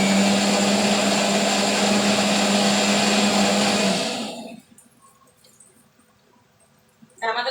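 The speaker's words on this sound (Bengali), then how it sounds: "আমি মশলাটা আরেকবার একটু পিষে নেবো।" An electric grinder whirs loudly as it grinds a spice paste of masala with oil and tea liquor for an egg omelette curry, a steady motor drone that stops abruptly halfway and leaves near silence.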